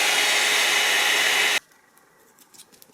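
A melted hair dryer powered from a salvaged transformer blows with a loud steady whoosh for about a second and a half, then cuts off abruptly, leaving quiet faint clicks and taps.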